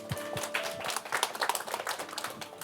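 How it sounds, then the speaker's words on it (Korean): Audience applause at a spiritual and cultural summit gathering: a thin, scattered patter of clapping that runs steadily throughout, fairly soft and never building to a roaring ovation. "박수 소리가 왜 그래요?"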